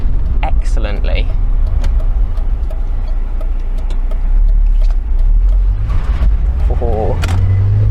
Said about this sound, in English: You can blip it and rev match excellently.